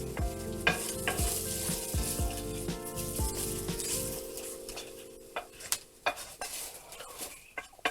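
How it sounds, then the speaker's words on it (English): Shallot sizzling and slowly caramelizing in a pan over low heat, a steady frying hiss with utensils stirring and tapping against the pan, close and moderately loud, without speech. "we don't want to burn the shallot, but we do want to slightly caramelize it a little bit"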